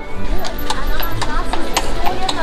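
Horse hooves clip-clop in a steady rhythm on a street in Bruges, moderately close, amid outdoor town bustle and background voices.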